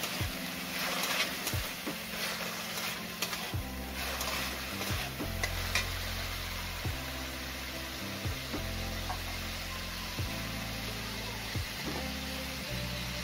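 Chopped tomato is stirred into frying onion for an aloo-cauliflower curry, with repeated scraping and clanking of a spoon against the pot over a steady sizzle; close and continuous, with no talking.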